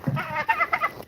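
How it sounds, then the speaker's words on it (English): Chicken sounds from a backyard flock with a young cockerel: a quick series of short clucking calls, close and moderately loud, with no talking. "And that rooster is a cockerel."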